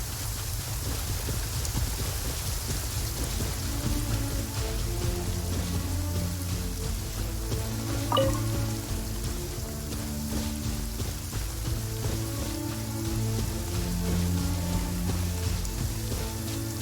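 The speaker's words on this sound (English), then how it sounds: "It always rains when I go on an adventure." Steady rain falls in Genshin Impact, a continuous wash of patter and drops with a low rumbling bed beneath, even and unbroken throughout with no voices.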